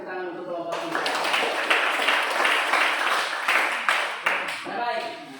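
A class applauds group 3 after their presentation: a sustained burst of dense clapping from many hands in a classroom, loud and steady for several seconds before fading slightly.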